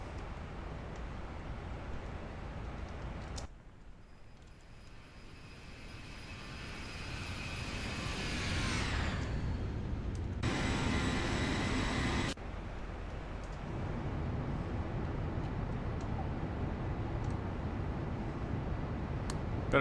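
Aircraft engine during climb-out in the X-Plane 12 flight simulator, a steady loud roar with a whining tone that shifts partway through and abrupt cuts and changes in the noise.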